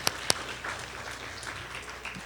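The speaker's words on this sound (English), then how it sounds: "you got to give them double claps" A school debate-finals audience claps steadily at moderate distance, with two sharp louder claps at the start before the applause settles into an even wash.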